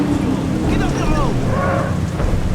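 Steady rain pours with a low thunderstorm rumble in the video game The Saboteur, loud and continuous with no break across the short stretch.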